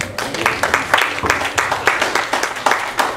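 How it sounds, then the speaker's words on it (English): A church congregation claps in praise during a Baptist service, a steady rhythmic run of hand claps with voices faintly mixed underneath. "Come on, church, give God a hand clap of praise."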